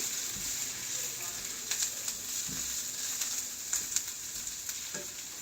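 Onions and carrots fry in a pan with a steady, fairly faint sizzle and a few soft knocks and scrapes of stirring, no speech.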